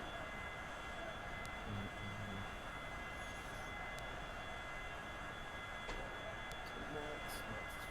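An airliner taxiing on a runway in Flight Simulator X, heard as a steady low engine hum and rumble with a faint whine, constant in level throughout, with no other sounds.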